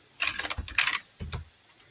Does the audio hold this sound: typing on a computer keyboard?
yes